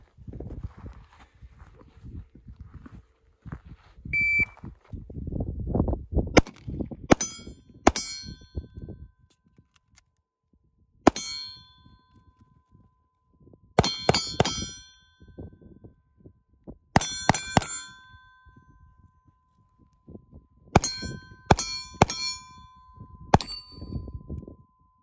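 Pistol shots in a 2,3,4,1 shooting drill fired at 18 and 10 yards, heard as sharp, sparse cracks in spaced clusters of two to four with ringing steel-target clangs between quiet pauses.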